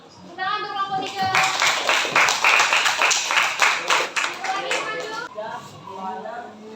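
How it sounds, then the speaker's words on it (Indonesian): A classroom of students claps for a presentation group, a burst of brisk, fairly loud applause that builds quickly, holds for several seconds and tapers off, with children's voices chattering around it. "Tepuk tangan untuk kelompok 3."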